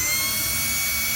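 A power drill on its lowest speed setting whines loudly and steadily while drilling slowly, a constant close-up motor drone with no breaks.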